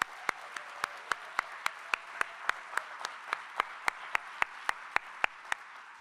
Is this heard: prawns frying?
no